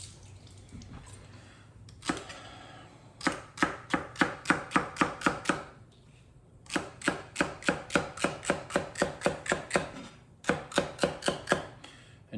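A knife chopping celery and carrot on a board for chicken noodle soup, fast even bursts of crisp taps in three runs split by short pauses, close and clear.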